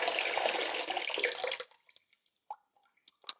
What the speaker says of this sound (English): I'm gonna throw the fresh water away